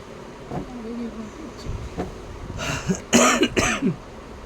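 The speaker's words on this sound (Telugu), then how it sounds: "మళ్ళీ నాకు దగ్గు వస్తుంది" A person coughs and clears their throat several times in quick succession near the end, after some brief quieter sounds.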